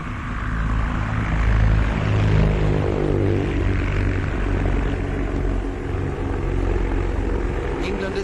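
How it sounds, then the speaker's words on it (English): Hurricane and Spitfire monoplane fighter aircraft pass with a loud, sustained propeller-engine roar and a deep droning throb that holds throughout. "The monoplane fighter makes its appearance, the Hurricane and the Spitfire."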